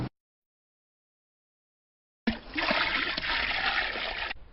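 A liquid fertilizer solution of dung, cow urine, asafoetida and lime is poured into about 100 litres of water, giving a close, splashing gush that runs for about two seconds after a stretch of silence.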